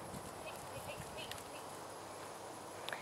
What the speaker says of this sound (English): Nice relaxed canters